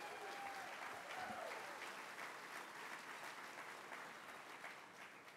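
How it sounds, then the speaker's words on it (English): An audience claps after a speaker asks for another round of applause for a tribal deputy chief at a Cherokee State of the Nation address, sustained moderately loud applause that gradually thins out. "Let's give him another round of applause."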